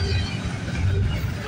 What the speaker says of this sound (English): This is a long-ass intermodal train.